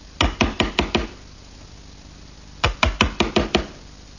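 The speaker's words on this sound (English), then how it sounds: "using a sharp chisel, I'm going to square up the bottom edge of all the mortises" Sharp chisel tapped into wood to square the bottom edges of mortises for a plant stand: a quick burst of five crisp knocks, a pause, then another run of about six, close and clear.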